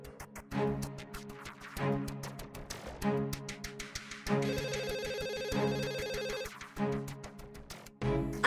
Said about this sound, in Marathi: आई शुभंकरचाच फोन असेल